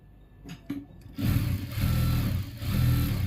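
A sewing machine stitching a blouse. A couple of faint clicks come first, then the motor whirs up into a loud, steady, close run that dips briefly once before carrying on.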